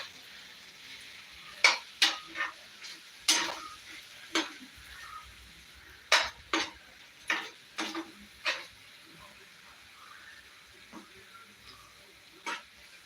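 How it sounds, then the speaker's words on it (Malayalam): A spoon stirs a special masala in a pan, giving a series of sharp scraping clinks in irregular bursts, close and fairly quiet, with brief pauses between strokes and no talking. "ഇനിയിപ്പോൾ നമുക്കൊന്ന് സ്പൂൺ വെച്ചിട്ട് ഇളക്കി കൊടുക്കാം ഇത് നമ്മുടെ സ്പെഷ്യൽ മസാലയാണ്"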